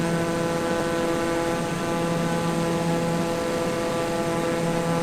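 A propeller airplane on landing approach to Lukla drones steadily from inside the cabin, a loud, constant engine hum with layered tonal whine and no break across the few seconds.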